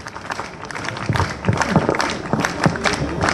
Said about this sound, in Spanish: pido fuertes aplausos